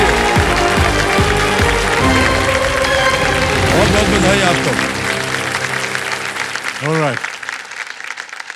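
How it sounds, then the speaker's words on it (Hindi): Studio audience clapping on a television quiz show set, a broad patter mixed with loud music and someone speaking over it, gradually thinning and fading out after about five seconds. "तालियां बजाने के लिए।"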